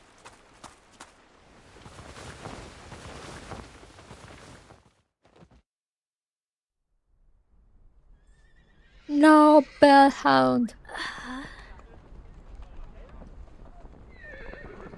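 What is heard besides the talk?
dozens of horses neighing, from video game Reverse: 1999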